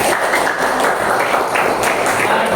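A group in a classroom claps hands together for a few seconds, a steady dense patter of applause with voices mixed underneath.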